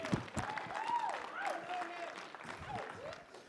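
Audience applause at a university communication studies media showcase, a faint bed of clapping from the room with a voice talking and an intonation-laden speech line running over it.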